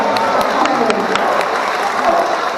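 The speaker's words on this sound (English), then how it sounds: "give him a huge round of applause" Crowd applause and some cheering for a sea lion performing at an aquarium show, loud and close, with distinct claps and a voice audible beneath.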